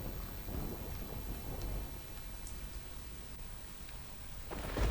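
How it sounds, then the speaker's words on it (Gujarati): Steady rain falls during an early-morning shower under dark clouds in Aravalli district, Gujarat, with low rolling thunder rumbling underneath and a closer swell of rain near the end. "મેઘરજ સહિત ઈસરી, રેલાવાડા, જેતપુરમાં વરસાદી ઝાપટા પડી રહ્યા છે"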